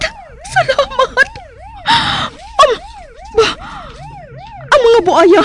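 Police car siren wailing loudly in a rising and falling pattern throughout, close and prominent, broken by short bursts of noise and gasps.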